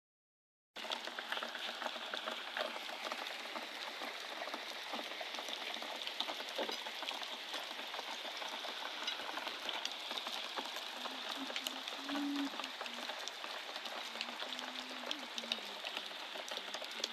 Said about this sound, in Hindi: तो देखो बहुत प्यारी बारिश।